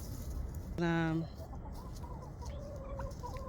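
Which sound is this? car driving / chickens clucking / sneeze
chickens clucking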